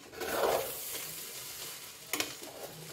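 Vegetable fried rice with mixed vegetables, cashews and raisins is stirred in a hot pan, giving a close, steady scraping sizzle with a sharp clink of the spoon near the end.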